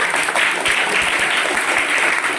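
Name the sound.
audience applause at a magic show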